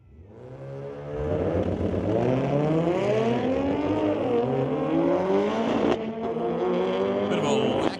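A 2016 Audi and a 2003 Mitsubishi Lancer launching off the line in a street-legal drag race at Mission Raceway Park, engines revving then rising loudly through the gears, with a commentator talking over it.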